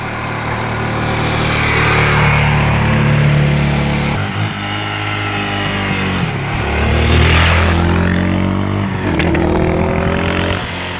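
A cheap secondhand motorcycle's engine, one of the least expensive bikes on a classified-ads site and still needing adjustments, runs close up with a loud uneven idle and several revving surges rising and falling.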